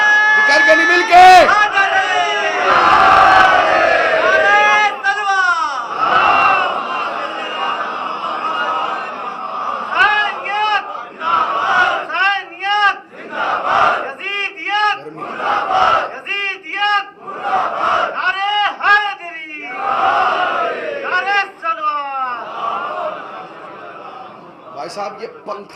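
A large crowd at a Shia majlis religious gathering shouts slogans in loud, rhythmic bursts of massed voices, one call after another with brief pauses between.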